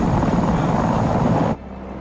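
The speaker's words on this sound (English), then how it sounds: "It's a attack chopper." A military attack helicopter in Batman: Arkham Knight roars with a loud, steady rotor drone, then cuts off abruptly after about a second and a half to a quieter lingering hum.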